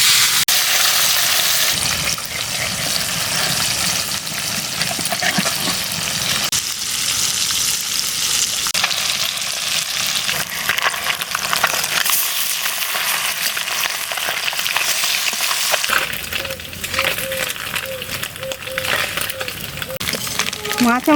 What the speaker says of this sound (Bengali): তেল গরম হয়ে গেছে, মাছটা তেলের মধ্যে দিয়ে দিচ্ছি।